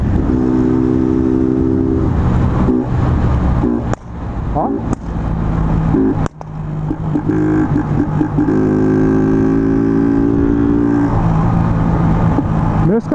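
A hot fuel-injected 500 motorcycle with a 2-into-1 exhaust and no filter revs repeatedly, its droning engine note rising and falling with sharp crackling pops from the exhaust, loud and close, while someone talks over it.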